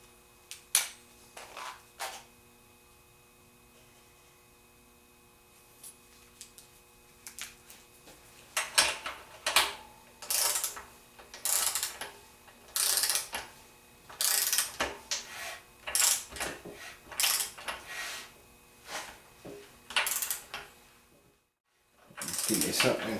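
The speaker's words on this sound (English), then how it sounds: "I'm going to go ahead and torque it down" Torque wrench tightening the pulley bolt on a Volkswagen 1915 engine to 33 foot-pounds: sharp ratcheting clicks come in bursts, sparse at first, then a dense run of repeated ratchet strokes, close and clear with brief pauses.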